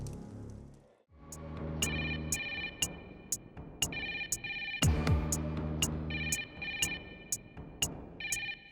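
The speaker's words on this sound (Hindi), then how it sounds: "कोई फोन ही नहीं उठा रहा है, बेल जा रही है बस।" A telephone rings unanswered, a repeated electronic ringtone in regular bursts about half a second apart, fairly clear, over a low background hum.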